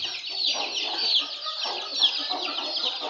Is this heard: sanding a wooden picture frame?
no